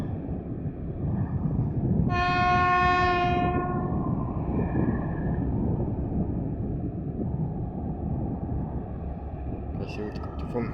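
A 3M62U diesel locomotive labours uphill hauling a heavy freight train, its engine a steady loud rumble; a long horn blast sounds for about two seconds early on, and the grinding drone continues throughout.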